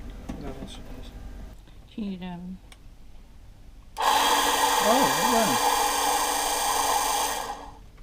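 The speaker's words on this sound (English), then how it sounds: "Lee used his red fuel battery cell to briefly power it" A boat's water maker pressure pump, briefly powered by a red fuel battery cell, starts abruptly and holds a loud, steady electric whine for about three and a half seconds before cutting off. Short bits of speech come before it and over it.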